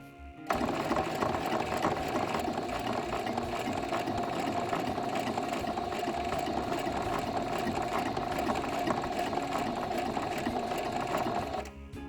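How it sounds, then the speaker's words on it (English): A sewing machine topstitches a fabric flower coaster, running along the circular hem and petal edges in one steady, continuous close-up drone that lasts nearly the whole stretch, then stops. "top stitch along the circle hem and top stitch along the petal edges"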